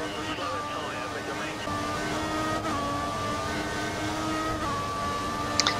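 Formula 1 car engines in F1 2014 at Suzuka, a steady high whine with shifting pitch as cars run on track, continuous and fairly loud under a voice commentating.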